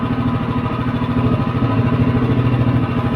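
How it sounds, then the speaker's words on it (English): A Predator 212 small engine with a muffler running at raised throttle, a loud, close, steady pulsing drone with an even rapid firing rhythm and slight clatter. "Let's throttle it up. Notice how the engine's not shaking and moving around."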